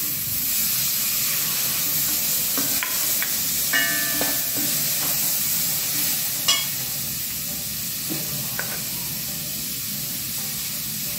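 Onions sautéing in a pan for a cauliflower and egg scramble, a steady soft sizzle with occasional stirring clicks and scrapes.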